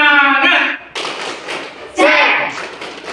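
Group doing tepuk semangat, a rhythmic spirit clap, heard as sharp bursts of hand claps and taps in short groups, loud and close, with voices chanting along.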